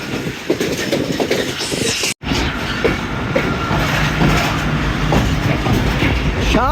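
Detached coaches are shunted at Lala Musa railway junction, with a continuous rumble and clatter of rolling railcars, steady and fairly loud, with a brief dropout partway through.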